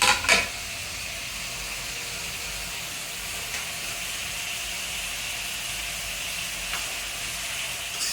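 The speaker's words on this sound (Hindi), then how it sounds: "यहाँ पे हमारी पाव भाजी पक रही है" Pav bhaji of chopped onion, tomato and beetroot cooks in a pan with a steady close hiss of sizzling and steam, opening with a couple of brief clinks.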